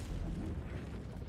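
An explosion clears trees in a survival video game, producing a dense, low, rumbling blast that fills the whole short moment with heavy bass and noisy debris.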